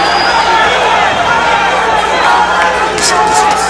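Boxing arena crowd during a heavyweight bout, a steady loud murmur and cheer rising around the fighters, with commentary voices talking over the noise.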